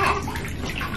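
Water sloshing and splashing in a home bath while a five-day-old newborn is washed, a steady close wash of water noise lasting about a second.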